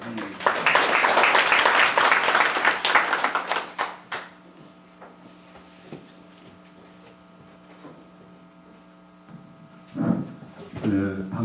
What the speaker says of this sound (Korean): 큰 박수로 선생님을 환영해 주시기 바랍니다